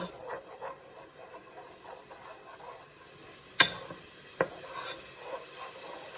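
Onions and garlic cook in a pot for a lamb stew, a faint low sizzle with soft stirring scrapes and two sharp utensil knocks against the pot.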